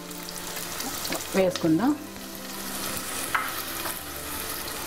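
Chopped onions hitting hot oil with curry leaves and green chillies, a steady close sizzle running throughout under a brief spoken phrase.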